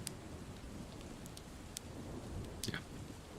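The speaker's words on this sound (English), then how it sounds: "Quite a storm, huh?" Rain ambience from a thunderstorm set for a tabletop role-playing session, a quiet steady patter with a few sharp drips or crackles, no thunder clearly standing out and no voices.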